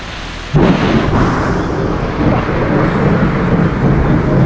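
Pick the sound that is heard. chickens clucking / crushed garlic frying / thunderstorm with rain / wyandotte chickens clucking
thunderstorm with rain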